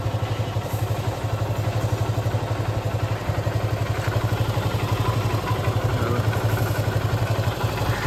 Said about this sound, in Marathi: फरक जाम पडतो. बघा तुम्हाला इंजिनच्या आवाजामध्ये फरक कळत असेल.